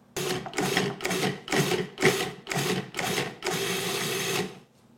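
A food processor grating or chopping beetroots runs in six short bursts of whirring motor and blade rattle, then one longer steady run before stopping, loud and close with no talking.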